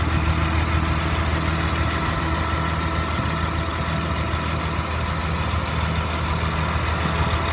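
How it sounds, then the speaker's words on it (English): A 2003 Blue Bird All American 72-passenger school bus sits idling after its motor has run for about an hour, giving a steady, even diesel rumble with no change in pace. "Again, the motor's been running for about an hour."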